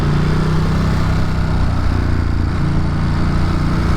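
A motorcycle engine running steadily on a cool morning commute, a loud continuous droning hum with a low rumble that holds nearly constant throughout, no talking over it.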